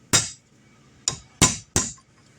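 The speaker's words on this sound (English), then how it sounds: "The nut that's in there, I'm going to go ahead and knock it out." Hammer blows on a punch knocking a nut out of a part, four sharp, close metallic strikes, one then a pause and three more in quicker succession, each with a brief ring.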